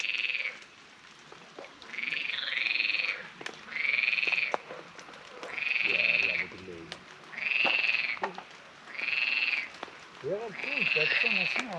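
Frogs croak in a steady series of loud, drawn-out calls beside a fishing lake on an evening tench outing, about six evenly spaced bursts with brief quieter gaps and faint background murmur between them.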